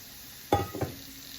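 Homegrown summer squash dropped into a pan of softened onions, giving a brief sharp sizzle followed by a quieter stirring scrape, close and short.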